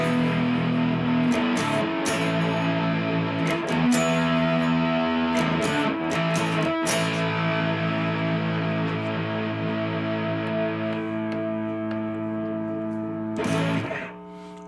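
Arzuza Vintage Series electric guitar played through distortion on its humbucker pickup, sustained overdriven chords with sharp strummed attacks and ringing tails, fading out near the end.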